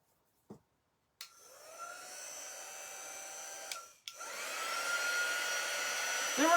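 A hair dryer blows steadily on a craft transfer after a brief click, running as a close, even whooshing whine, cutting out for a moment and then starting up again a little louder.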